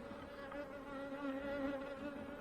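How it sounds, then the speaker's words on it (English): Close, steady buzzing of honey bees at a hive frame, a constant droning hum that wavers slightly in pitch, with no talking. "There's actually some new bees running around on that frame"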